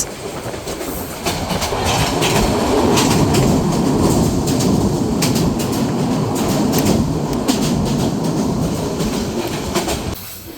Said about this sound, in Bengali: এই ট্রেনটি হলো লালমনিরহাট থেকে ঢাকার মধ্যে চলাচলকারী আন্তনগর বুড়িমারি এক্সপ্রেস